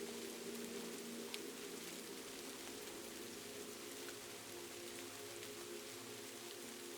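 Rain falls on a roof on a night in Kyoto, Japan, a soft continuous patter of countless drops merging into an even hiss, faint and unbroken.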